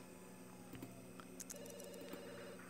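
A telephone rings in the life-simulation game The Sims 2 in the middle of the night, waking two sleeping Sims; a faint, steady electronic tone sits low in a quiet room ambience.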